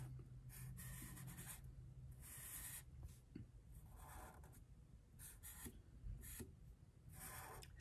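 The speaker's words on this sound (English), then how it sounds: "I would stop those lines, hop over to my other side, and then continue drawing." Pen drawing lines on paper to fill in a tree sketch: soft, close scratching strokes in bursts with short pauses between them, faint and with no voices.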